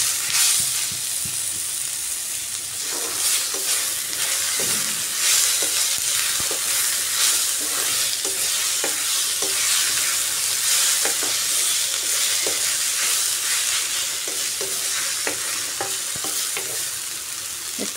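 Tomatoes frying in a pan for a dry chicken dish, giving a loud, continuous close-up sizzle with scraping stirs and frequent small pops throughout.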